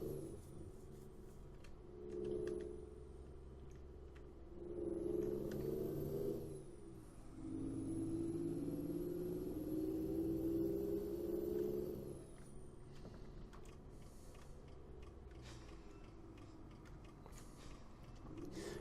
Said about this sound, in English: Pretty shouty engine that I've got in this